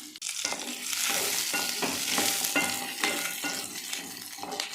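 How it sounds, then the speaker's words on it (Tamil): Curry leaves frying in hot oil in a pan make a loud, dense, crackling sizzle that spits and flares in bursts, close up and steady throughout with no voices. "கடாயை வச்சுட்டு எண்ணெய் சேர்த்துக்கலாம். இது கூடயே கருவேப்பிலை சேர்த்துக்கலாம்."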